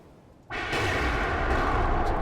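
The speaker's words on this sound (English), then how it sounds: "explosions" A sudden explosion effect bursts in after a quiet moment, then rolls on as a loud, sustained roar and rumble.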